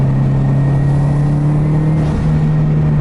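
A tuned Subaru pulls away on light throttle, its engine giving a steady, loud low drone with a sustained tone that holds evenly throughout, close to the microphone, with no voices over it.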